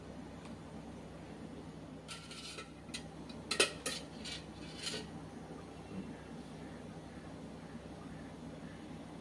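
A utensil stirring white sauce pasta in a pan, a handful of metallic clinks and scrapes clustered in the middle over a low steady hum, fairly faint overall.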